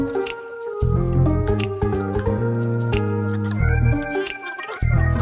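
Shredded dried squid tossed into a simmering seasoning sauce in a frying pan, close wet squishing and bubbling over a bed of loud background music.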